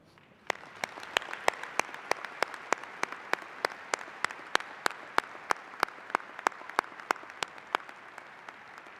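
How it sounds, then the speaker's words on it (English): At a university fall commencement ceremony, a single pair of hands claps slowly and evenly, about three claps per second, the sharp claps ringing out in a large quiet hall. "Please join me in a round of applause to thank the faculty for their dedicated work"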